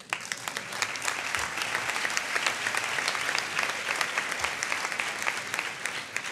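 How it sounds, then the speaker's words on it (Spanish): Applause from the audience at a CCOO union congress, a long stretch of dense, even clapping with sharp individual hand claps standing out, no talk over it. "para ellas también un aplauso"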